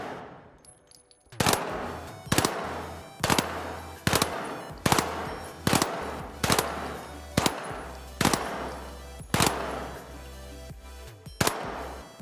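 A light machine gun firing in The Finals, about ten evenly spaced loud shots with sharp attacks and short decaying tails, close and alone.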